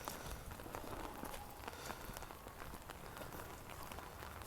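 Steady rain falls outdoors near a chicken area with muddy ground, a dense, constant patter of drops on surfaces, faint but even, with scattered louder drips and no voices.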